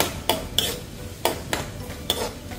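Onion and garlic for egg fried rice are stirred in a pan, a utensil scraping and clinking against the metal in several sharp strokes over a faint sizzle.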